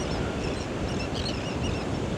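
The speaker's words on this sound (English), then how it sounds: "Sound of the ocean." Ocean waves wash onto a beach at Clearwater at sunset, a steady broadband surf roar with light wind noise, continuous and fairly close, with no talking.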